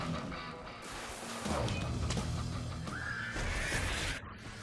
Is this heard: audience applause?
no